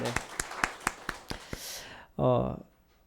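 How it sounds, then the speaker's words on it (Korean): Applause from a church congregation welcoming people during a Sunday service: a short series of evenly spaced claps, followed by a brief spoken voice. "다시 한번 박수로 환영하겠습니다."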